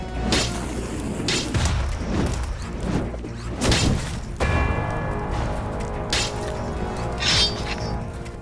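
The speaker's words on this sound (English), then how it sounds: "That explosion should kill me." Explosions and crashes in the robot combat game Clone Drone in the Danger Zone, loud booming bursts with whooshes and shattering debris, dense and continuous, followed by ringing tonal game effects.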